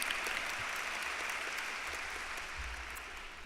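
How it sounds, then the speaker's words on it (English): An audience applauds at a law school commencement ceremony with steady, continuous clapping from a large crowd, even and sustained throughout without cheering. "another round of applause."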